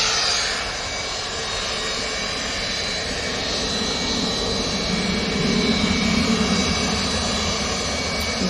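A Boeing 757 jet airliner rotating on takeoff at Manchester Airport, its engines roaring loud and steady throughout with a broad, sustained rumble that swells slightly near the end.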